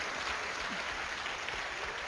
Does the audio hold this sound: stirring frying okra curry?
no